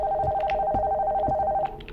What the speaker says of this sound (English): The phone upstairs is ringing.